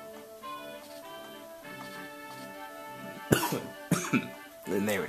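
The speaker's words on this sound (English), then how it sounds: "I kind of have a lingering cough because of my allergies" A person with a lingering allergy cough coughs a few times in short, sharp bursts over quiet background music, with talking in between.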